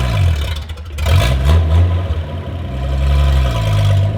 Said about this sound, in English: It's moved under its own power